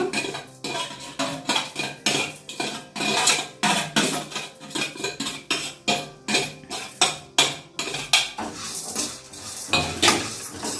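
Coconut and poppy seeds being roasted in a pan for capsicum masala curry, with repeated rhythmic scraping and stirring of a spatula against the metal pan, loud and close.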